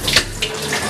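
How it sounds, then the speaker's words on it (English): Water runs from a bathroom tap during a hair-washing routine, a close, steady splashing stream with a few brighter spatters and no talking. "I actually don't need the water on right now."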